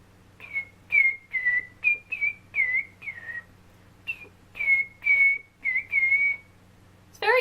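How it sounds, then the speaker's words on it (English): A person whistling a series of short, airy, slightly wavering notes in an uneven rhythm, about a dozen bursts with brief gaps, close and alone with no talk. "I've never been very good at whistling."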